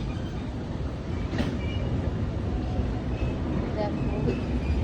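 A long-distance passenger train pulling out of Vijayawada station at night, heard from on board as a steady, loud rumble of the railcar with faint rail clatter throughout.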